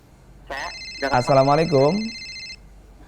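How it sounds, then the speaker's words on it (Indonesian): A telephone rings with steady electronic tones that run for about two seconds, heard up close while a voice talks over the ring. "afwan ada telepon Ustaz, kita angkat dulu"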